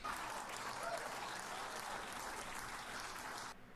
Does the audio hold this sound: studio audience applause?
yes